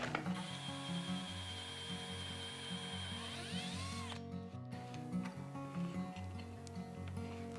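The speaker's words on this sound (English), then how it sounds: "And now I'm just going to pre-drill" A drill whirs steadily up close while pre-drilling a hole for a hook, then winds down around four seconds in, followed by a quieter mechanical grinding and clicking.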